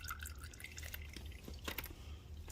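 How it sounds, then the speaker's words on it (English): Engine oil drains from a 2006 Yamaha YFZ450 ATV after a complete rebuild, a faint, close trickle with soft irregular drips and splatters over a low background rumble. "Oil running all over the place."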